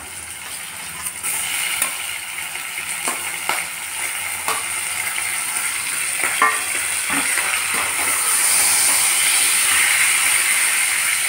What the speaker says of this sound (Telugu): ఇప్పుడు మటన్ వేస్తున్నాను.